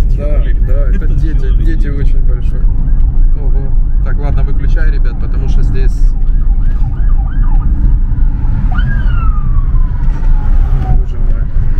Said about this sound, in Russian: Скорая помощь, нифига себе.